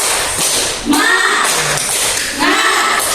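Students in a classroom perform a rhythmic spirit clapping chant, tapping out a quick sequence of claps in bursts with voices chanting along.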